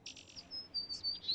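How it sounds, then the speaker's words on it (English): Bird chirps in the Nancy Drew: Alibi in Ashes video game: a few short, thin, high tweets spaced across the moment, faint and alone with no talk. "That was a bird."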